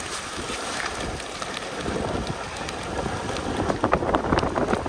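Wind gusts across an open field during a controlled burn, a steady rough rush that buffets the microphone and builds louder toward the end, with no voices.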